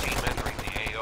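Machine gun fire in the Warfare Online video game, a rapid stream of close automatic shots packed into a brief burst, with a voice talking over it.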